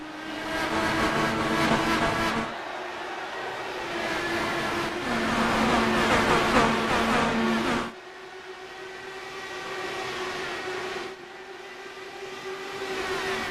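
A field of IndyCar race cars in a video game roars off the start line at Kentucky's Sparta oval, engines droning loud and steady in overlapping waves that rise and fall as the pack accelerates, with no talk.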